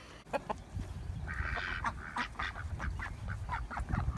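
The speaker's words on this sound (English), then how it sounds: "What do you think about those ducks, Bo?" Several ducks quack and honk nearby in quick, irregular bursts.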